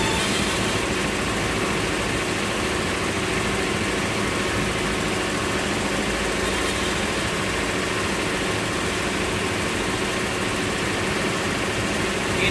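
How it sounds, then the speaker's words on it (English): Boat motor running steadily while cruising on open water, a continuous loud engine drone with broad wind-like noise and no break or change for the whole stretch. "You know, just putting along with the boat."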